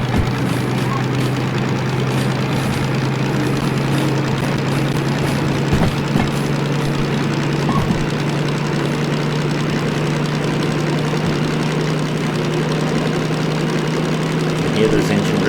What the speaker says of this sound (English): Hear those engine revs climbing.